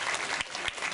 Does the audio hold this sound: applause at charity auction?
yes